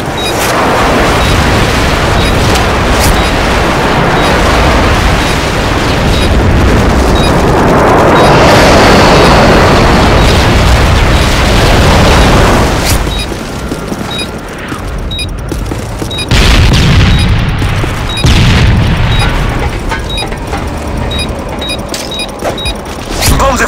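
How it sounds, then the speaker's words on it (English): Airstrike in the video game Call of Duty MW3, a long loud barrage of rumbling explosions and booms rolling together, easing briefly and then returning with further heavy blasts. "Friendly airstrike on the way"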